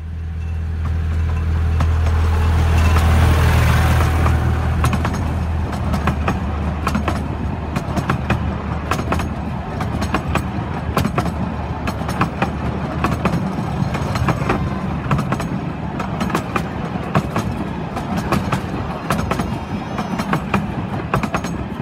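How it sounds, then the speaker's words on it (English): A miniature train on the Ruislip Lido Railway rolls over track points, a loud rumble at first giving way to a long run of sharp rhythmic clicks and clatters from the wheels. "the train's going to be coming from this one in a second"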